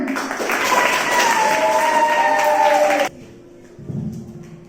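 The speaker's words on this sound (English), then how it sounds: "So finally team B is winner. Clap for them." Classroom audience clapping for the winning team of a science quiz, lively sustained applause for about three seconds that cuts off abruptly, followed by a quieter pause and faint sounds.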